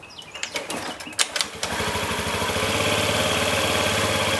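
A 2005 Honda Metropolitan scooter engine, just cleaned after a rough start, runs steadily up close. A few clicks and knocks come first, then it settles into a continuous loud buzzing drone that builds slightly.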